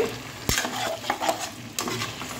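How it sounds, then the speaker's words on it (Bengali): Chicken pieces sautéing with spices and salt in a pan over medium heat for Akhni pulao, a steady close sizzle broken by a few sharp utensil scrapes and stirs, with no voices. "5 থেকে 6 মিনিট আমি চিকেনটা মশলার সাথে একটু কষিয়ে নেব"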